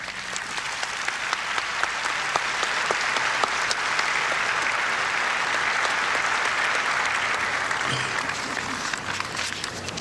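An audience at the Harry S Truman Building dedication applauds to welcome George Elsey, a steady, even burst of clapping from many hands that carries on for the whole stretch without pause.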